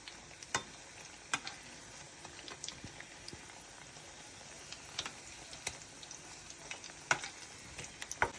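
Cabbage fritters fry in hot oil over a raised gas flame for a vegetarian bora, giving a quiet, steady sizzle scattered with small crackling pops throughout.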